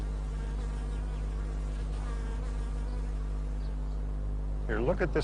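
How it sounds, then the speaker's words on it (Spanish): Steady insect buzzing fills the clip, a continuous drone like bees on the wing, with a short burst of voice near the end. "Para John Miller, el sonido de las abejas es como el sonido del dinero."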